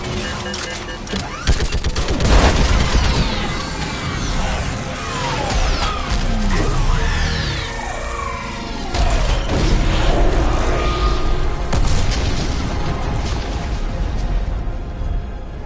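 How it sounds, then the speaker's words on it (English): Orbital strike explosions in the Mass Effect 3 video game: sustained, loud rumbling blasts and crashing booms with rapid bursts of gunfire layered over them, dense and continuous throughout. "I need an orbital strike."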